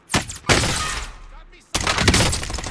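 Bursts of MAC-10 submachine gun fire in the shooter game Warzone Pacific, two dense rapid volleys split by a brief gap, loud and close, with a faint voice in the lull between them.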